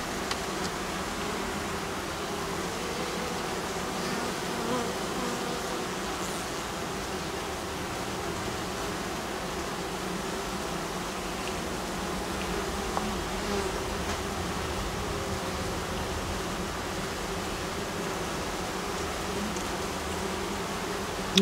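Honey bees drone steadily around an open hive frame while a beekeeper checks for a newly mated queen, a dense continuous buzzing that stays even and close throughout, with no talking.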